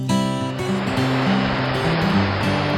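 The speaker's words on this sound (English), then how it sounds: "And thereabouts again there is this amazing and colorful falls." Water from Lower Calf Creek Falls in Utah pours in a steady, full rush, close and unbroken, with no voices over it.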